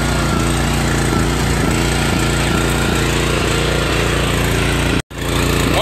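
A Little Wonder brush cutter engine runs loud and close with a rapid, even, chugging beat, cuts out briefly near the end, then resumes running.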